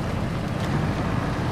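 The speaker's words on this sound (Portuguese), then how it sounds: "Liga o motor." A vehicle engine idles and rumbles steadily in the off-road driving game Expeditions: A MudRunner Game, a dense continuous drone with no talk over it.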